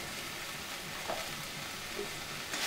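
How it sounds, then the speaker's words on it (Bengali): Ginger garlic paste fries together with onions in a pan, giving an even, continuous sizzle at moderate volume with a couple of faint stirring knocks. "এবার আমি দিয়ে দিলাম এতে একটু করে আদা রসুন বাটা"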